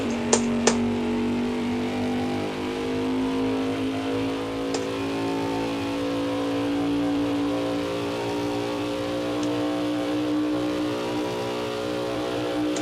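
A race car engine in a racing video game revs and climbs steadily in pitch as it accelerates, a loud continuous drone with a couple of brief clicks at the start.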